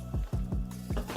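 Diced vegetables being mixed into a chickpea salad: four or five soft, quick scraping strokes of a utensil against the bowl in a close, quiet, even rhythm.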